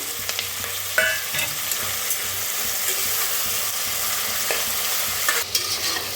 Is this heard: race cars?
no